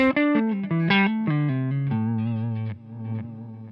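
An electric guitar through an IK Multimedia X-Time delay pedal set to duck plays a quick run of notes, then holds a low note while echoing repeats swell in as the playing stops.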